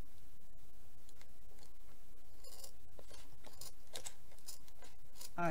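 Paper is cut with a pair of poor-quality household scissors, giving a steady run of quick snips and rustling ticks close by, with no talking.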